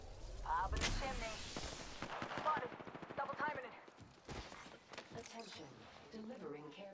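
Bursts of rapid gunfire and explosive shots from Apex Legends combat crackle loudly at the start and recur in sharp volleys, overlapped by character voices calling out.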